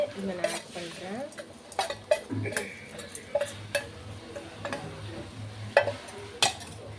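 A metal spoon stirs fried potatoes into a spiced masala in a cooking pan, making irregular scraping clinks and knocks against the pan with a faint sizzle underneath, fairly close with no talking.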